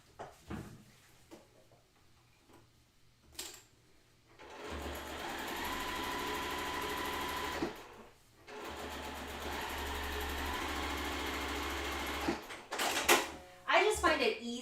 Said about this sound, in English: I'm going to go ahead and sew my 1/4 inch seam across